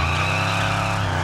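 Car sliding sideways in Test Drive Unlimited, a steady tire skid over a low engine drone lasting about a second, close and even in level.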